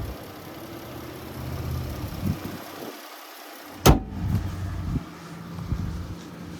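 A 3.6 liter V6 in a 2023 Chrysler 300 Touring L idling with a low, steady hum, broken by a brief sharp click and a few soft knocks nearby.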